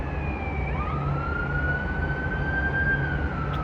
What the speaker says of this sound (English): I think it might be an ambulance.